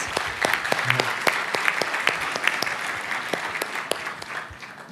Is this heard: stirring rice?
no